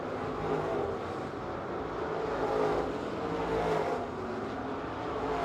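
Late model race cars roaring around the track during a CRUSA 604 Late Models race at Cochran, a dense continuous engine drone with swells as cars pass, loud and steady with no clear talk.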